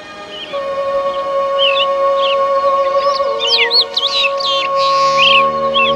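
Returning migratory birds, including flamingos and wild ducks, on Andes slopes in spring, heard as a steady sustained tone under a lively mix of chirps and tweeting calls, moderately close and continuous.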